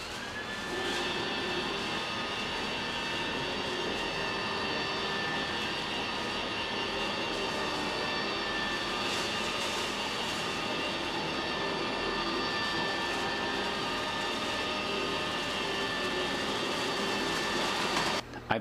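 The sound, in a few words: Roomba robot vacuum exhaust filling a taped-on trash bag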